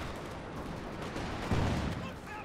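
Indirect fire and artillery in the Company of Heroes 2 strategy game rumble as a dense, continuous barrage, with a heavier thump of explosions near the middle under steady battle noise.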